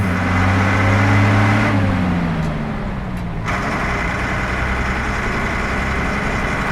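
A car engine runs steadily during a getaway in a Kannada movie scene, a loud continuous drone that shifts pitch slightly partway through, with no pauses.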